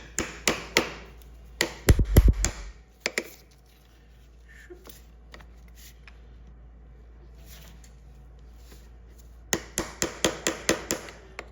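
Sharp metal taps and hammer strikes come in clusters at the start and end, with a quiet gap between them, while the lock tab on a DRZ400's counter sprocket nut is bent up in a workshop, close and with no talking.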